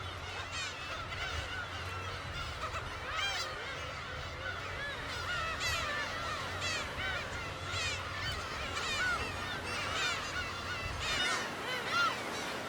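Young seagulls call on Dokdo island, a busy chorus of overlapping squawking, honking cries from several birds that carries on continuously at moderate distance.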